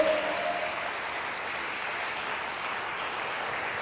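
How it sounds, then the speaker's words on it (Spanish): A church congregation claps together during a Spanish-language worship service, a steady, dense wash of hands filling the space at even loudness with no voices rising above it. "Dele fuerte las palmas al Señor."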